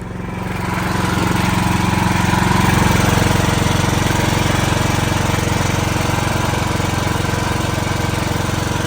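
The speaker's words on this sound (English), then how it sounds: "showing that the generator is running" A homemade automatic generator set runs in eco mode, its engine chugging loud and close with a steady, even rhythm after building up during the first second, alone and without voices.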